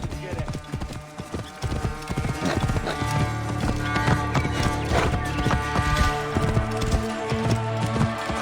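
Horse hooves clip-clop steadily with a neigh in the Assassin's Creed Origins game, set in Egypt, the footfalls close and rhythmic over ambient game sound.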